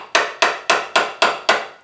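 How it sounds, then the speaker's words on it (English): Six sharp, evenly spaced metallic taps from a small watch hammer ring out close by, each decaying quickly. "I have a very small watch hammer"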